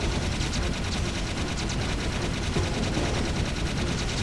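Rapid, continuous automatic gunfire from the Vulcan Fury gun in the video game Jak 3, a dense stream of shots with a steady rattle and no pauses.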